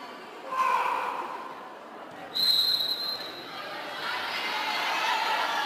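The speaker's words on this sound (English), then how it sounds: "So much crowd noise that Jones didn't even hear the whistle from the up ref" Crowd noise swells and fades at a women's college volleyball match between SMU and Stephen F. Austin, with a short sharp referee whistle cutting through partway along.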